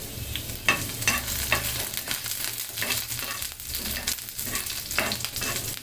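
Green chilies sizzling in a pan of potato and meat curry, a steady close frying hiss with repeated scraping stirs of a spatula, no talk.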